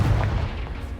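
The Confringo fire spell from the Hogwarts Legacy video game going off: a heavy, low blast that rumbles and slowly fades over about a second, close and fairly loud.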